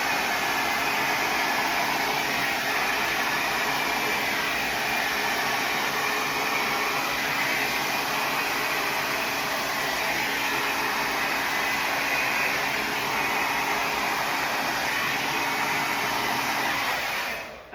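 A hair dryer blows steadily over a large fire-and-smoke epoxy vase, a continuous loud broadband whoosh for about eighteen seconds with no talking.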